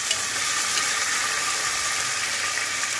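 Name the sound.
tomato frying and being stirred in a pan for khichuri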